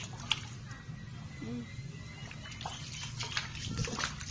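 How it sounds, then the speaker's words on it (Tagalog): Water is scooped and splashed while raising tilapia, soft sloshing and dribbling mixed with outdoor background noise, with people talking faintly over it. "Bigyan mo, isalok mo konting tubig."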